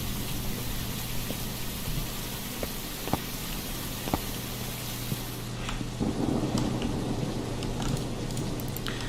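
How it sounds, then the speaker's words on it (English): Thunder rumbles through a rainy storm ambience in the Phasmophobia ghost-hunting game, a steady wash of rain with a few sharp cracks and a louder rolling swell near the end, no talking. "New Thunder's nice."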